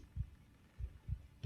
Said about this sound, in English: I don't like hearing a heartbeat in my ears